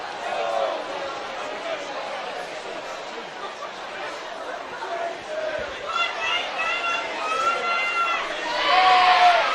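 A home crowd at a BUCS Super Rugby university match between Bath and Cardiff makes steady chatter and cheering throughout, rising toward the end, with a commentator talking over it.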